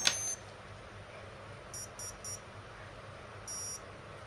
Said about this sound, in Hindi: देखिए तीन आपने इसमें बीप सुनी है, मतलब इसकी आर्मिंग हो चुकी है